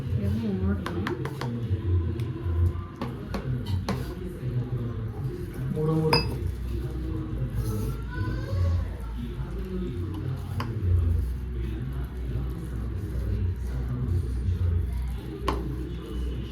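Baby corn pieces stirred with spices, ginger-garlic paste and a splash of water in a bowl for crispy fried baby corn, with steady clinking of a spoon against the dish and soft wet squishing throughout.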